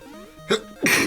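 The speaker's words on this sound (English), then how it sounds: "Bad time to sneeze, I guess." A single sharp human sneeze, close and loud, preceded by a brief inhale and a smaller catch, with no other sounds around it.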